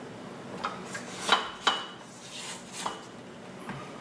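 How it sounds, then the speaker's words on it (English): A spatula scrapes the sides of a mixing bowl and its beater while making snickerdoodle cookie dough, with a few scratchy strokes and two sharper scrapes in the middle, close and moderately loud, with no talking. "I am scraping the sides of the bowl down"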